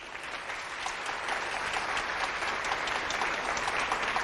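Studio audience applauding steadily at a Turkish television show, dense clapping that swells slightly and holds without pause, no voices on top.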